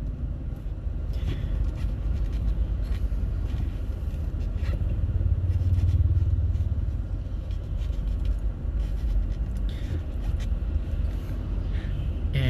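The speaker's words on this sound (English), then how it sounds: "And there are many cars on the street today. Lot of traffic." Many cars pass along a busy street, a continuous low rumble of traffic that swells and fades as vehicles go by. The sound is moderately close, with scattered faint higher noises above the steady drone.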